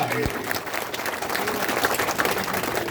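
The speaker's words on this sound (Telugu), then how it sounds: "చప్పట్లు కొట్టాలి గట్టిగా" An audience applauds at a public gathering, a broad wash of clapping with a voice in the mix.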